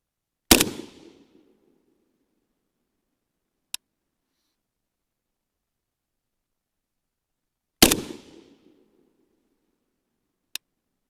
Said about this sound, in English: let's go ahead and shoot a few more groups